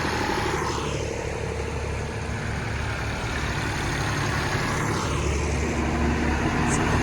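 A tractor rig fitted with a Volvo industrial engine runs steadily nearby, a continuous low, heavy diesel rumble and idle with no break, at an outdoor charity tractor run.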